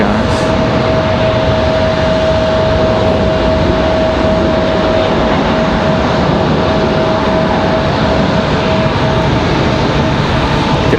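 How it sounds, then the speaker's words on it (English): American Airlines jets departing RDU airport in Raleigh-Durham, a loud continuous engine roar with a faint steady tone running under it. "Gonna do a rapid fire departures here"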